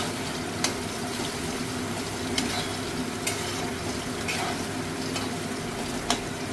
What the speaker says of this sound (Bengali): দেখো এই আলুটা ভাজছি